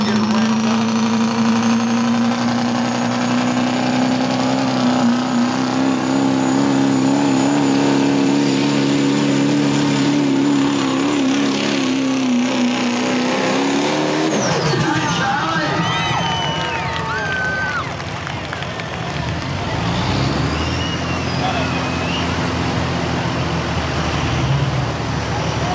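A pulling truck at an outdoor truck and tractor pull in Front Royal, its engine droning loudly and building under boost, with an announcer speaking and crowd noise around it.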